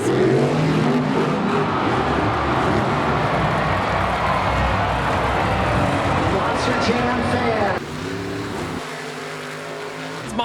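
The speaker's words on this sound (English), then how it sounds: "monster trucks rolling from all over the country and are roaring their way into the Tia Bank Field" Monster trucks at TIAA Bank Field stadium in Jacksonville roar with loud, sustained engine noise and revving that abruptly drops to a quieter idle near the end.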